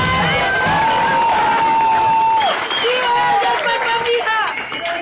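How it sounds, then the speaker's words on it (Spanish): A large crowd cheers and applauds at a Liberal party political rally in a public plaza in Colombia, loud and sustained across the whole stretch, with shouted voices and an amplified voice carrying over the noise. "Un aplauso a ella."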